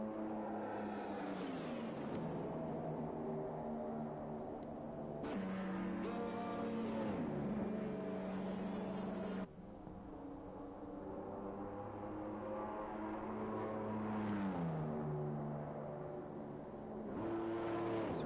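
A Formula 1 car in the F1 2021 game at Abu Dhabi screams through gears on a qualifying lap, high engine whine rising and dropping with upshifts and braking, steady and alone with no talk.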